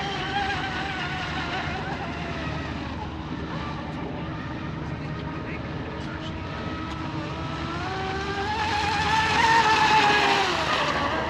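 A J&R Marine H26 RC hydroplane boat runs at about three-quarter throttle, giving a steady, high motor whine that swells louder and rises in pitch toward the end.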